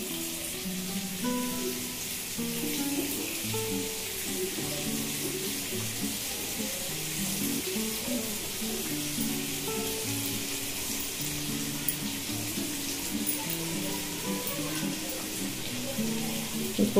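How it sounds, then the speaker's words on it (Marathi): Masala for a tiger prawn fry cooks slowly on low heat in a pan, a steady broad hiss with soft stirring and faint watery clinks running evenly throughout. "हे मसाला पण एकदम स्लो गॅसवर तळायचं, म्हणजे मसाल्याचा पण स्वाद आला पाहिजे,"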